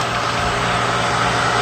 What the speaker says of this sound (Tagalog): Tumatakbo din ang ating motor.